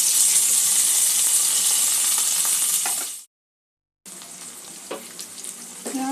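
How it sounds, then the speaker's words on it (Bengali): Onion and tomato fry loudly in a pan while cooking a green moong and potato curry, a steady dense sizzle that cuts out abruptly, then resumes quieter with occasional clinks and stirring scrapes. "পেঁয়াজ আর টমেটোটা দিয়ে একটু ভেজে নেব।"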